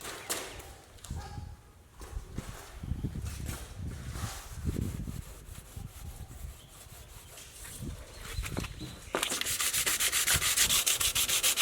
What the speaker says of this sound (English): let me wipe this down real quick